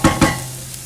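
Garlic tipped into a pot of translucent onions sautéing for corn chowder: two quick, close stirring scrapes a beat apart, then a low, steady sizzle that fades.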